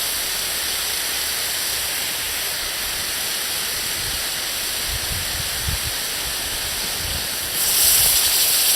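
Water heated by hot rocks boils at a steady rolling roar, a continuous close hiss with low bubbling that swells louder near the end.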